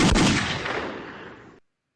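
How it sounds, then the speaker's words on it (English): A single loud gunshot-style sound effect dropped onto a sports talk show, with a sharp burst and a reverberant decay fading out over about one and a half seconds, no talk over it. "Where are my gunshots at?"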